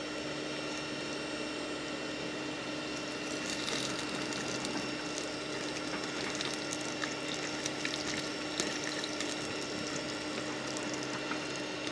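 A hot knife blade is plunged into a quench tank in a garden blacksmithing setup, giving a steady hiss and bubbling sizzle that runs the whole time with small crackles, close and fairly loud.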